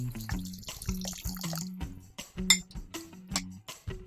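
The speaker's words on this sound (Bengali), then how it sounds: "এক কাপ সয়াবিন নিলাম গরম জল দিয়ে ভিজিয়ে নেব" Hot water poured from a kettle or jug over dry soybean chunks in a bowl to soak, a close, uneven splashing and trickling pour with small knocks and drips, no voices.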